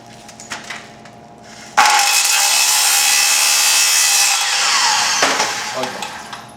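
A saw cutting wood on a woodworking bench, with quiet handling and knocks before a loud, steady rasping cut begins and runs for several seconds, then tapers into lighter scraping strokes near the end.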